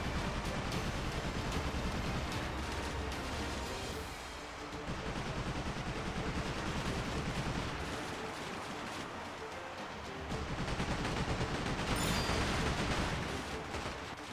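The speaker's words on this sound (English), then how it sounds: "the power of the gunfire depends on Goromaru's equipment as well as the crew's cannon power" Ship cannons and machine guns firing in the Like a Dragon: Pirate Yakuza in Hawaii demo, a dense, continuous barrage of loud blasts and rattling bursts with a brief lull partway through and a sharp crack near the end.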